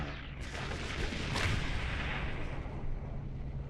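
Starship weapons fire in the Star Trek Online video game: a sharp blast opens into a roaring, rumbling barrage, and a second bright burst lands midway before the roar slowly fades.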